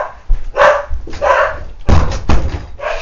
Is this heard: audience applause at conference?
no